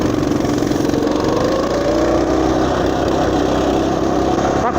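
A Motoland RT200 pocket ATV engine runs close by with a loud, continuous buzzing drone that stays fairly even throughout.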